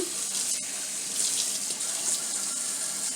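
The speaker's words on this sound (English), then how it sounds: "as that tub's filling up" Hot then cooler tap water pours steadily into a bathtub being filled to wash synthetic wigs, a continuous close rushing splash with no talk.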